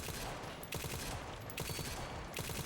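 Pistol fire in Resident Evil 9 Requiem comes as rapid, repeated shots in a dense, loud stream, with sharp cracks standing out several times over constant game noise.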